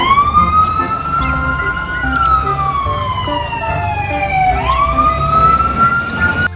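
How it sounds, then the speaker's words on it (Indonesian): A toy fire truck siren wails up and down in a loud electronic tone, repeating steadily with a faint rattle beneath it. "Ini mobil pemadam kebakaran nih."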